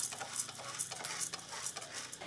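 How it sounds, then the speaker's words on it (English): Coffee beans roasting over a fire are stirred in a quick, regular rhythm of scraping strokes, each with a crisp rattle and faint sizzle, close and alone. "you got to stir in a certain way to make sure that each bean will be perfectly roasted and burnt"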